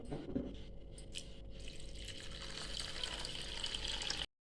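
Rice being washed in water, a steady close splashing and swishing of water that runs continuously for about four seconds, then stops abruptly, with no speech.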